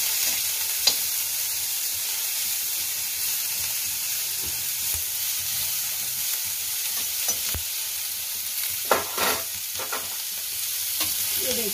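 Potatoes being stirred and fried in a pan for crispy chili potato, giving a steady sizzle with occasional scraping stir sounds and a few louder clinks, heard alone at moderate level.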